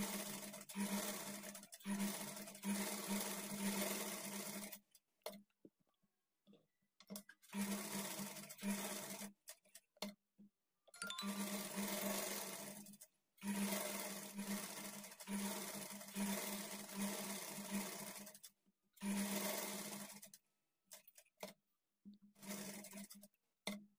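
A sewing machine stitches the lining of a blouse from the waist up, running in long steady bursts broken by short pauses, loud and close with no voices.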